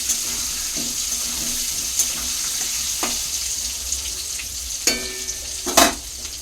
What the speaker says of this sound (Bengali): তো আলুগুলো আমার ভাজা হয়ে গেছে